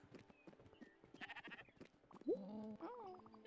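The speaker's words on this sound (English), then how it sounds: "You brought a second sheep." Sheep bleat in the video game Spiritfarer: a clear, wavering cartoon bleat rings out loudly near the end, followed by a second one, over softer game sounds and chatter.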